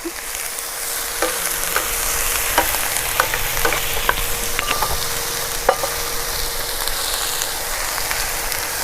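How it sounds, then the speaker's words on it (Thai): Chinese kale stir-fried in a hot pan, a steady loud sizzle with scattered sharp clicks of a utensil scraping and tossing the greens, no talking. "ผัดจนกว่าผักมันจะสลดนะครับ"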